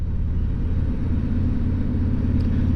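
A motorcycle engine holds a steady 2,000 RPM in fifth gear at about 40 mph, a smooth, continuous low rumble riding close on a fall cruise along the Blue Ridge Parkway.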